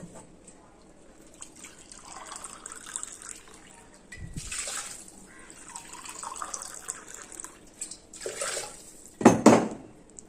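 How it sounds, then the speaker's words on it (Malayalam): Water is poured into a soup pot after ghee and pepper, splashing and trickling in uneven bursts with a louder, closer gush near the end and light clinks of the pot. "2 കപ്പ് വെള്ളം ഒഴിക്കണം."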